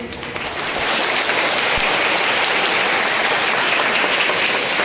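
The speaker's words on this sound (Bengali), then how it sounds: "তো ওদের জন্য একটা হাততালি হয়ে যায়।" Applause for prize-winning students at Paramanandapur Jagannath Institution: a dense, steady wash of many hands clapping that swells in within the first second and holds evenly throughout, with no talk over it.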